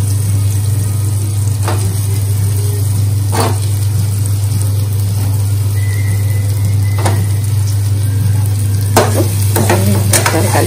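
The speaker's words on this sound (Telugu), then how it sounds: "ఇప్పుడు మనం మసాలాని ఈ విధంగా కూరినటువంటి వంకాయలని వీటిలో వేసేద్దాం." Masala-stuffed eggplants sizzle in a hot pan for a Telugu gutti vankaya curry, a steady loud frying hiss under a low constant hum, with occasional sharp clicks and scrapes of stirring throughout.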